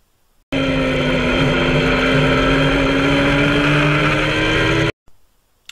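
A loud, steady high-revving Kawasaki ZX-10R racing motorcycle engine at Cadwell Park circuit holds one pitch for about four seconds, then cuts off abruptly, leaving near silence.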